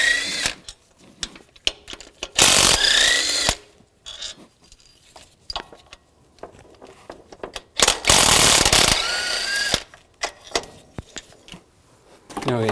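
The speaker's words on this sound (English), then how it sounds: "Take the tensioner off, use a 15 millimeter socket, and there's three bolts." A 15 mm socket ratchet clicks in quick repeated bursts while backing out belt tensioner bolts on a 2007-14 GMC Sierra 3500HD engine, with loud close clatter of the socket and bolts between the bursts.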